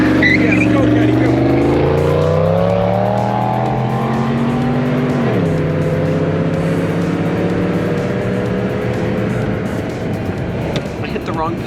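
A straight-piped Cadillac engine revs and accelerates hard, its loud rising drone climbing in pitch, dipping at a shift, then holding a steady roar close by as people cheer over it.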